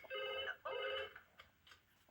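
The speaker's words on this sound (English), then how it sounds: "I've just got to phone Wendy first." Telephone ringing in the Bob the Builder cartoon, two clear trilling ring bursts close together, followed by a quieter fading tail.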